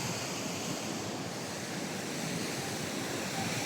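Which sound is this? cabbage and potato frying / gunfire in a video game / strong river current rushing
strong river current rushing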